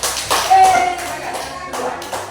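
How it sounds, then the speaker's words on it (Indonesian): A school classroom of students claps hands in a short, loose burst of taps at close range, mixed with children's voices talking over it. "tepuk tangan dulu"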